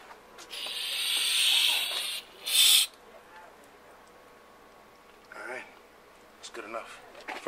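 Aerosol can of POR-15 paint spraying close by: a long steady hiss of about two seconds, then a short sharp burst, followed by quieter scattered handling noises.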